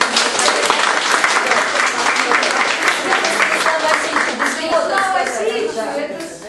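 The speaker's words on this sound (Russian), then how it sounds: "Ну тогда, по-моему, еще аплодисменты." Audience at an online presentation breaking into loud, sustained applause, dense rapid clapping that holds steady and fades slightly at the end.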